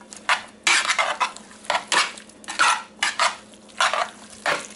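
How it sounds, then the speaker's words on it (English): Keto potato salad being mixed in a bowl: a rhythmic series of about ten scraping, clinking utensil strokes against the dish, close and fairly loud, with short pauses between them and no talking. "Let's give it a mix"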